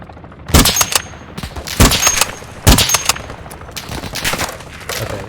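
Sniper rifle shots in the video game Call of Duty DMZ, several sharp loud cracks in uneven bursts with ringing tails and other gunfire between them, no talk.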